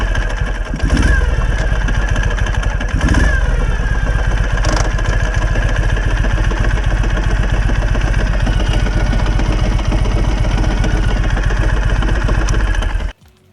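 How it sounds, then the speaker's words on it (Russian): A 2013 Ural 750cc motorcycle engine with a broken front crankshaft bearing idles steadily for about thirteen seconds with a rough, knocking mechanical rattle running through the drone, then cuts off abruptly. "Здесь мотоцикл работает с разбитым передним подшипником коленвала."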